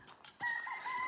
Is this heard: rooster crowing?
yes